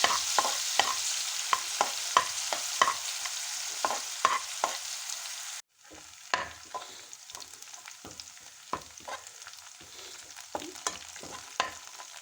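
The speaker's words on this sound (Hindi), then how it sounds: "बारीक कटा हुआ लहसुन डाल के इसे फ्राई करेंगे" Finely chopped garlic sizzles in hot oil for Punjabi-style sarson ka saag, a steady close frying hiss broken by repeated scraping stirs, with a sudden step down in loudness midway.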